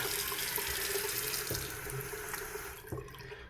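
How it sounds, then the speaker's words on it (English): Tap water runs steadily and fills the space close by, pouring down a drain at a backcountry stop, with a couple of brief knocks partway through and no voices. "there's so much water, I just let it run down the drain for the sole reason of pre-rinsing my clothes"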